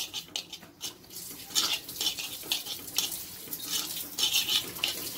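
Scraping and stirring spices in a clay pot, with irregular gritty scrapes and light clinks repeating up close, no voices.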